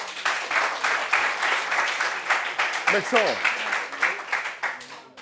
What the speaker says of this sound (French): Mais ça s'applaudit.